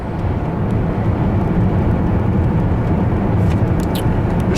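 A 1997 Lincoln car cruising straight down the road gives a steady, loud rush of road and wind noise with a low engine hum from inside the cabin, continuous and unchanging.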